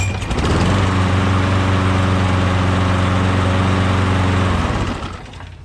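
A Briggs & Stratton Quantum low-compression lawnmower engine with auto choke runs steadily and loudly up close, a constant droning hum with strong low harmonics that cuts off near the end.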